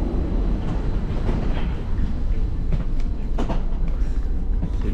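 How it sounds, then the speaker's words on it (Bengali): Airport express train pulling out of KL Sentral station, heard from inside the carriage as a continuous loud rumble with faint rhythmic wheel clatter. "অলরেডি ট্রেন ছেড়ে দিছে, এখান থেকে এয়ারপোর্ট পর্যন্ত এটা যাবে।"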